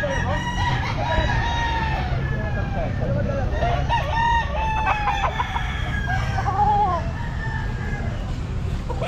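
Sweater gamefowl roosters at an outdoor pet market crow loudly and repeatedly, several birds overlapping and answering one another amid clucking, steady crowd hubbub and occasional background voices.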